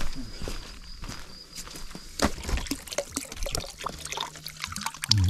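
Spring water on a mountain hike in Slovakia's Veľká Fatra runs steadily into containers being filled, a continuous splashing trickle outdoors with scattered footsteps, knocks and handling noises nearby.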